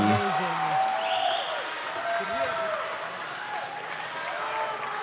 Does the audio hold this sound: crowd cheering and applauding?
yes